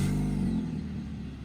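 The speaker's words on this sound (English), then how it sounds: "So I'm gonna hop in, we'll see if I can get the car backed out." An old car that had sat unused for three years idles with a low, steady engine rumble as it is backed out of a garage, heard close and alone, fading slightly.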